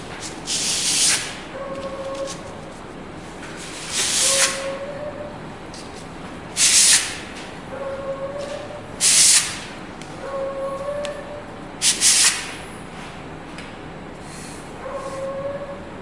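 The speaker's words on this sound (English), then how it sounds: "Now I just need some sandpaper for this direction." Sandpaper rubbed along the edge of a piece of new studio furniture, a series of short raspy hissing strokes in bursts a couple of seconds apart, close and fairly loud, with quieter scraping between them.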